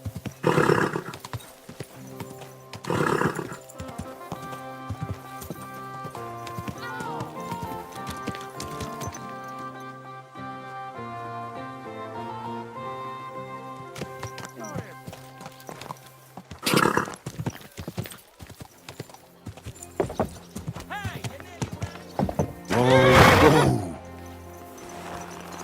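A horse whinnies loudly several times between stretches of soft hoofbeats and a low musical backdrop in Kingdom Come: Deliverance.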